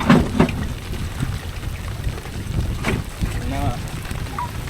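Strong gusty wind at sea on a sardine handline fishing boat buffets the microphone with a constant rushing roar, water and boat noise underneath, and brief voices in the mix.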